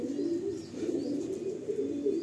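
Pigeons in a loft, among birds for sale from Andhra Pradesh, give a soft, steady low cooing that runs continuously at close range with no talk.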